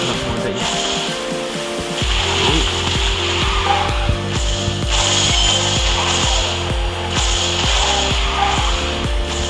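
Renault car drifting in the mobile racing game QQ Speed Mobile: a loud, steady engine drone with rhythmic pulsing and grinding mechanical texture runs throughout, with no talk.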